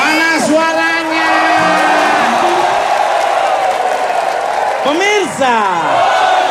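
Studio audience on an Indonesian TV comedy talk show cheering, whooping and shouting loudly and continuously, with a host's voice rising over the crowd at the start and again near the end.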